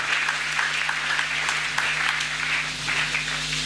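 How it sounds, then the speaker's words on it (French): A church congregation at a Sunday service applauds continuously, a dense wash of many hands clapping with a steady low hum beneath it. "Applaudissez pour la gloire de Dieu."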